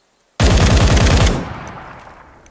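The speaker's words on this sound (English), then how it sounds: "Oh, why are you shooting at me?" A rapid burst of automatic gunfire in the tactical shooter game Ground Branch, about a second of loud, close, evenly spaced shots cutting in abruptly, then a reverberant tail fading away.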